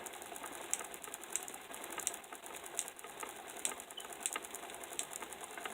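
Hand-cranked Van de Graaff generator running steadily, giving a continuous mechanical whir with a faint regular ratcheting tick about every half second, close and moderately quiet, with no speech.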